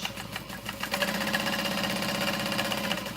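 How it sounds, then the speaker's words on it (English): A sewing machine runs steadily, basting waterproof canvas in place around the outer edge of a small messenger bag, with a continuous whirring motor hum and fast needle rhythm, close and alone. "So I'm just going to baste this in place, sewing around the outer edge."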